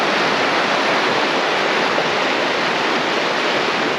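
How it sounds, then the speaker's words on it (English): A river rushing downhill beside a hot spring in White Swan Provincial Park, a dense, constant roar close by with no talking over it. "Here's the river coming down"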